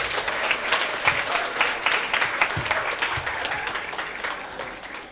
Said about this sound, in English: Give applause to our speaker.